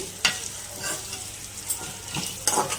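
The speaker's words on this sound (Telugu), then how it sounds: "ఏది మాడకూడదు ఇలా టాస్ చేసుకుంటూ ఉండాలన్నమాట" Sabudana khichdi with ginger pieces being tossed and stirred in a hot pan, giving a soft continuous sizzle with a few sharper scraping clatters at the start and end.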